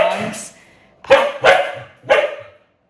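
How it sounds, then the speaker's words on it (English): Dogs at home bark close by in three sharp, loud bursts spaced about half a second apart, following a brief earlier yelp. "sorry if you heard my dogs"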